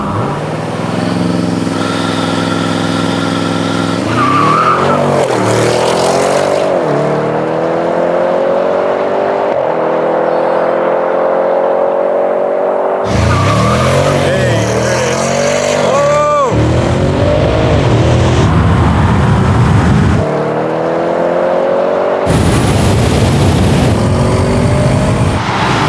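A 700hp Audi RS6 Avant drag races a Tesla on a no-prep strip. The engine roars loudly through rising gear pulls with sharp upshifts, and the car passes close by under a continuous engine drone.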